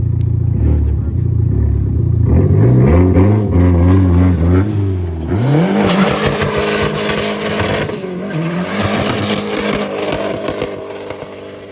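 A Dodge Neon SRT-4 does a front-wheel-drive burnout, its engine revving hard and loud over a long, wavering tire squeal that rises and falls for several seconds, with voices talking underneath.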